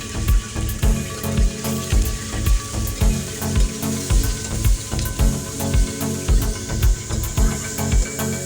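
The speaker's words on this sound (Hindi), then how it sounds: "चिकन का कलर आने तक हम इसको फ्राई करेंगे।" Chicken pieces sizzle and fry in a pan of already-fried onions for a chicken karahi, a steady close hiss with a rhythmic pulsing bubbling and clattering throughout, no voices.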